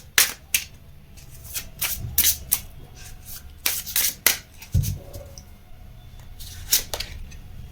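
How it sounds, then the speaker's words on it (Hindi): Tarot cards are drawn from a deck and handled during a pick-a-card reading, giving a close, dry run of quick snapping shuffles and slides in uneven bursts with short gaps between them. No voice is heard over them. "फोर कार्ड निकालेंगे हम यहाँ पर।"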